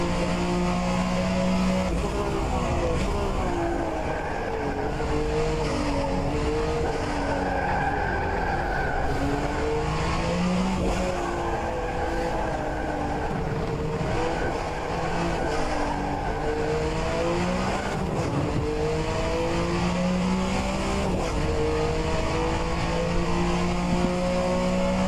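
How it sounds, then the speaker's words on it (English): A Group C sports prototype race car at NOLA Motorsports Park, its engine roaring loud and close as it accelerates hard through rising revs and a gear upshift, running continuously with no voices. "Slightly early upshift to 4th."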